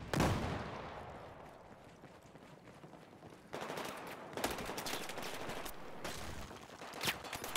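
Bursts of Battlefield 4 gunfire crackle in the game, a sharp shot up front and then rapid automatic volleys returning in clusters, moderately loud with no talk over them.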